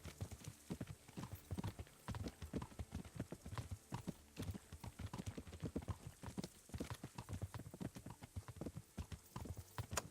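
Horse hooves clip-clop steadily along a road in Kingdom Come: Deliverance, a brisk, even rhythm of close, crisp hoof strikes continuing throughout with no talk.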